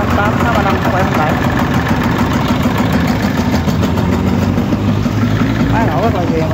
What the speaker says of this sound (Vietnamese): Máy nổ rất là ghiền